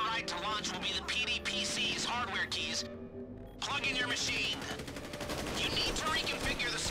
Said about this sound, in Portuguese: Eu tô tomando tiro aqui.